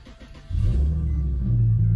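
Car engine cranking and catching after an oil change, a quiet moment followed by a sudden loud, close rumbling start that settles into a steady low idle.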